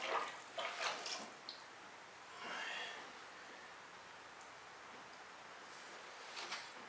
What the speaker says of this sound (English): What I'm gonna do is pour out and twist.